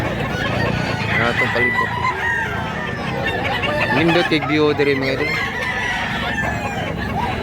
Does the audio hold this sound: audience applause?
no